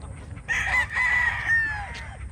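A single Pure Sweetness gray gamefowl rooster lets out one drawn-out crow at moderate distance over a low rumble of background noise.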